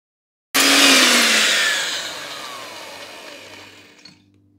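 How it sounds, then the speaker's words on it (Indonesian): Electric blender switched on abruptly and whirring loudly while mixing cake batter with flour for a purple sweet potato sponge cake, the motor pitch slowly dropping and easing off as it runs, close and alone. "Lalu kita blender."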